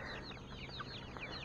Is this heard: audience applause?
no